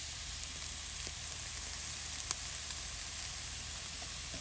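Garlic and ginger sauté in a pan for sardine curry, a faint steady sizzle with one or two soft stirring taps, no talk.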